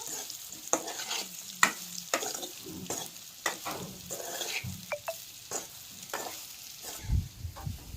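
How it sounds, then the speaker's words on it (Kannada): Soybeans frying in hot oil in a pan, stirred with a spoon: a steady close sizzle broken by repeated sharp scrapes and clinks of the utensil against the pan, with no one talking. "ಸೋಯಾಬೀನ ಫ್ರೈ ಮಾಡ್ಕೋಬೇಕು"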